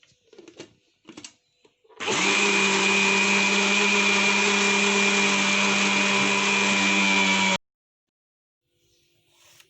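A blender beats a coffee cake mixture in a steady, loud whine for about five and a half seconds, cutting off abruptly, with brief clatter and handling noises just before it starts.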